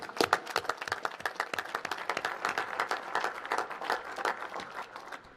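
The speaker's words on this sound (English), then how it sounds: "So give yourselves a round of applause." An audience at a National Space Council meeting at the Udvar-Hazy Center in Chantilly, Virginia claps steadily. Many hands make dense, continuous applause that holds throughout and thins slightly at the close.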